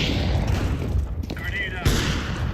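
Video game firefight with grenade and flashbang blasts, sharp booms and a bright burst amid rumbling noise, with a voice talking over the action.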